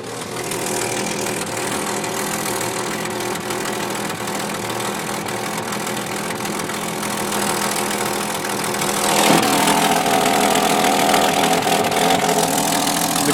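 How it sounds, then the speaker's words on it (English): A 1966 Ford Mustang idles after a cold start, with a pretty bad exhaust leak. Its steady, loud, rough engine drone runs throughout, swelling slightly in the last few seconds. "The car does have a pretty bad exhaust leak."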